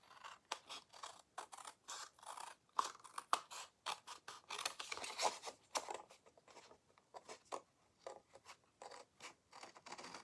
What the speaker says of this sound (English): Now all I need to do is just cut away the extra.